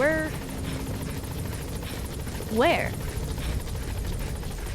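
Support helicopter arriving in the Metal Gear Solid V video game, a steady rotor drone running throughout with radio voices talking over it.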